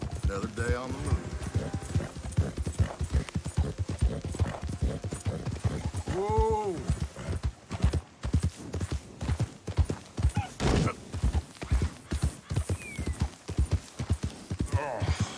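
Horse hooves clip-clop steadily at close range in the Red Dead Redemption video game, a continuous rhythmic trot with a brief whinny partway through, while someone talks over it.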